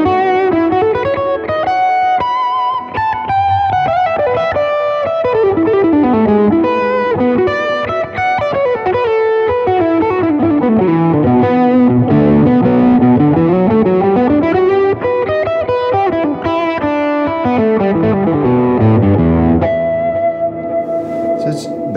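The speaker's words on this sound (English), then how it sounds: "If I go to a lead tone, it'll have a little bit more gain than usual." A loud, distorted electric guitar, a 1954 Fender Stratocaster, plays a sustained lead melody with bends, soaked in reverb and echo, continuous and alone.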